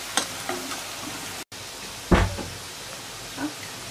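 Asafoetida sizzles in hot oil in a pan while being stirred, with a few soft spoon taps and scrapes and one sharper clatter against the pan.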